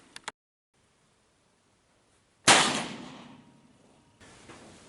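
An Uberti Walker revolver fitted with a conversion cylinder fires a single sharp shot that rings out and decays over about two seconds, preceded by a couple of faint clicks.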